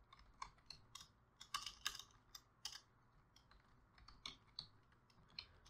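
Someone types on a computer keyboard, with faint, close, irregular clicks and a few quick clusters of keystrokes and brief pauses.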